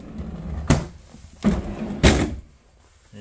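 Freezer drawers on the refrigerator of a Heartland Elkridge 33BHS RV being opened and closed, giving three distinct close thumps and slides about half a second apart.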